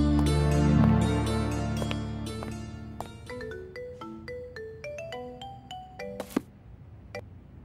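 An incoming-call phone ringtone plays a bright melodic tune of chiming notes, loud and close at first, then a descending run of separate tones fading toward the end, with no voices.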